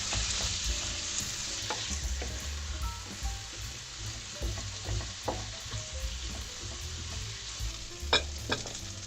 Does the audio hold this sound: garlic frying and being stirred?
yes